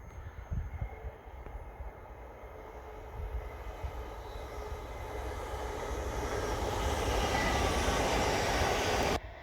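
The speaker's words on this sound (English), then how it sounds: "This is the northeast coast main line that I'm walking along the side of at the moment, so we get quite a few trains" A train roars past on the East Coast Main Line beside a wood, a broad rumbling rush that builds steadily louder over several seconds before cutting off abruptly.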